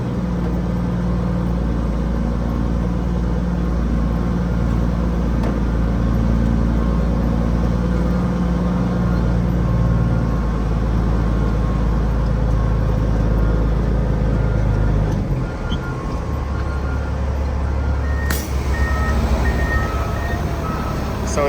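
Vehicle engine revving loudly and steadily at a slippery job site, its wheels spinning for traction, a continuous low heavy drone that shifts in pitch near the end.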